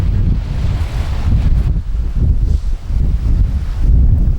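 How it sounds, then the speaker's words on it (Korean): Waves crash and surge against rocky cliffs and reefs around a small island in Korea's West Sea, a continuous heavy roar of surf driven by strong wind buffeting the microphone, with no voices. "암벽에 부딪혀 물거품을 일으키는 파도"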